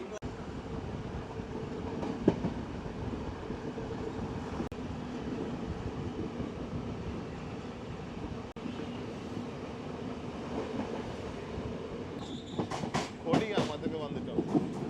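Train running on rails on the Jaffna to Vavuniya line, a steady rumbling roll with rail clatter throughout, louder bursts of clicking near the end and a voice talking faintly underneath.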